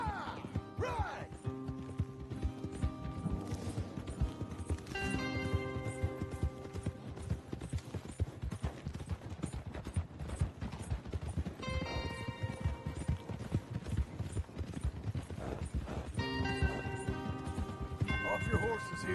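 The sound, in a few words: horses' hooves in video game Red Dead Redemption 2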